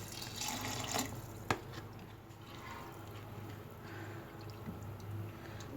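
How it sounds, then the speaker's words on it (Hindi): Water poured into a pot of potatoes and soaked sela rice for aloo tahari, a faint steady splashing stream with a small clunk near the start, quiet and alone. "अब हम इसमें चावल गलने का पानी डालेंगे।"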